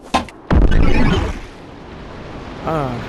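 A teleport grenade goes off in Animal Company with a sharp, loud burst and a short rushing decay, after a brief click; a voice comes in faintly near the end.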